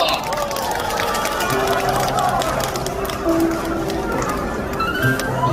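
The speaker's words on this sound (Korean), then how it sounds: "다시 한번 더 큰 박수 부탁드립니다" A crowd at an outdoor night-market concert applauds steadily throughout, a dense, continuous wash of clapping and crowd noise with faint cheering and held tones running underneath.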